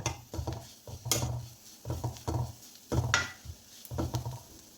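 Grated coconut and onion being sautéed in a pan for an ullithandu thoran, with a soft sizzle under repeated stirring and scraping strokes that come in a steady rhythm, close and fairly quiet.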